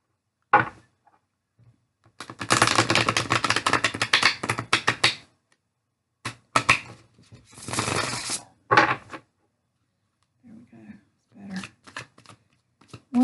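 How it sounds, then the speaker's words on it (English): Tarot cards are shuffled by hand in several bursts of crisp riffling and flapping, close and clear, separated by quiet gaps, with a few soft handling taps near the end. "Let me shuffle one more time."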